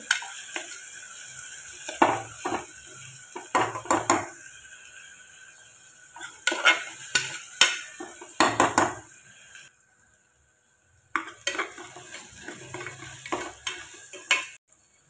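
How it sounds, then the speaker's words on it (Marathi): Onions frying in a pot toward golden brown for a village-style mutton rassa, with bursts of spoon scraping and clinking against the pot between quieter stretches of soft sizzle, close and intermittent. "कांदा छानपैकी गोल्डन ब्राऊन होऊन देते"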